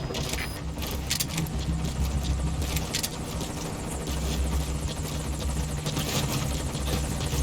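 The Morpho helicopter from MGSV: Ground Zeroes arrives at the landing zone. Its rotor and engine drone is steady and loud throughout.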